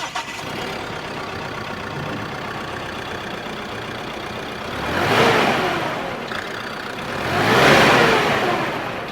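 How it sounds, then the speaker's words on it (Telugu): The 4-cylinder BS6 phase 2 engine of a 2026 Mahindra Bolero Maxx pickup while driving, a steady engine drone with two rising surges of revving as it accelerates. "ఇంజిన్ సౌండ్ అయితే చూసారు కదండి."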